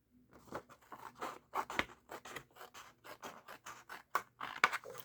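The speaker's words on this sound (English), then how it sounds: "how to use these loop handled scissors" Loop-handled scissors snipping through paper in a craft project, a quick series of close, crisp cutting strokes in uneven rhythm, alone without talk.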